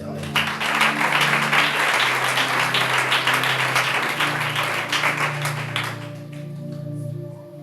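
A church congregation applauds steadily and loudly, with dense sustained clapping that fades near the end. A low, held tone sounds underneath.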